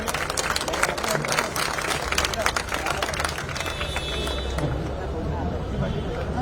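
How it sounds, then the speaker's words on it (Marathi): An audience at a BJP party induction event claps vigorously to welcome new members; sustained, dense applause with crowd murmur, easing slightly toward the end. "सगळ्यांनी जोरदार टाळ्या वाजवून स्वागत करायचे."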